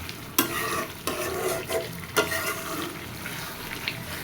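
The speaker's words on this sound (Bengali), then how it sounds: "মাংসটা খুব সুন্দর মতো কষানো হয়ে গেছে" Chicken pieces sauté in released oil in a pan, a dense sizzle punctuated by regular scraping stirs of the spatula every second or so, no talk.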